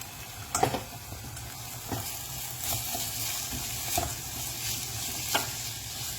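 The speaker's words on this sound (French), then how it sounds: "Je vais laisser cuire un tout petit peu, suer juste que les oignons soient translucides." Onions sweating in a pan for Senegalese thiébou dieune, giving a soft steady sizzle with occasional stirring clicks and scrapes, close up with no talking.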